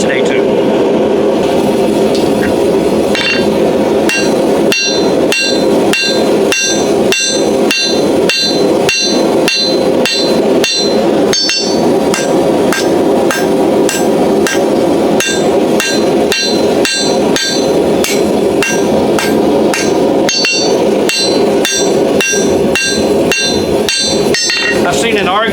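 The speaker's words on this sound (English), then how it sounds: "I think the trick to getting knives out faster also is good clean forging." A hammer forges a seax knife on an anvil with a long run of loud, evenly spaced ringing strikes, close and steady, with speech faintly present beneath.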